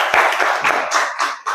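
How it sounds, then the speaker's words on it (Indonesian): Brief scattered clapping from a classroom audience after a student named Ica finishes presenting on computer components, a few hands tapping in uneven bursts close by. "silakan beri tepuk tangan untuk Ica"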